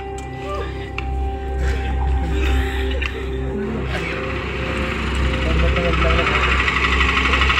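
A vehicle engine idles with a steady low rumble and slight knocking vibration throughout, with a voice speaking over it.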